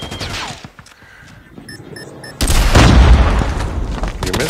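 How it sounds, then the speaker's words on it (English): A cluster strike in Call of Duty Mobile bursts into a loud, rumbling sequence of blasts after a quieter stretch, with heavy booms rolling on for a couple of seconds over background game noise. "Cluster strike incoming"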